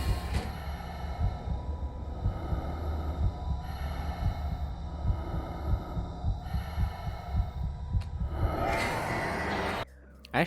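In an animated Bionicle 2 film scene, a heartbeat and breathing sound effect plays as a regular, deep throbbing pulse over a low hum, with a breathy swell near the end before a sudden cut.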